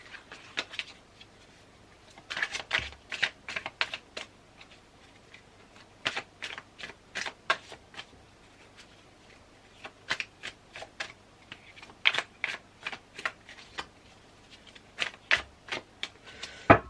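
Tarot cards are shuffled in repeated bursts of quick riffling flutters and soft slaps, close and fairly quiet, with brief pauses between rounds.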